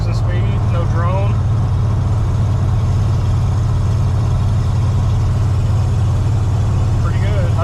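Inside the cab of a 1986 Ford F150 with glass pack exhaust and no X-pipe, the engine hums as a steady low drone at cruising speed, with faint voices briefly over it near the start and end.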